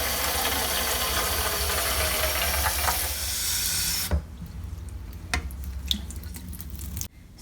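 Tap water rushes steadily into a small Betta fish tank, a broad continuous pour that cuts off abruptly, leaving quiet drips and a few small clicks and splashes afterward.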